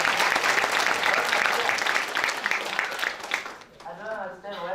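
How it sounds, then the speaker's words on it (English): Audience applause at a civic dialogue event on social cohesion in South Africa, a steady mass of clapping that fills the room for several seconds, then thins out as a voice begins speaking over the tail end. "Please give him a round of applause."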